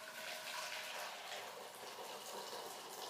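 One liter of water pours steadily into a cooking pot for chai, a continuous soft rushing splash with no voices.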